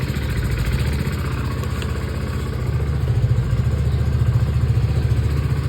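A motorcycle engine idles with a steady low putter, close and continuous, growing slightly louder and rougher partway through.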